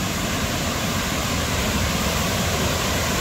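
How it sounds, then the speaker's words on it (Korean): Kuang Si waterfall near Luang Prabang, Laos, a steady full roar of falling water that stays broad and constant throughout, with no voices over it. "자, 이게 또 작은 황시폭포예요."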